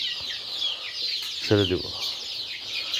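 Native chickens clucking in a netted free-range yard, a short burst of clucks midway over a faint background hiss, with a brief spoken word nearby.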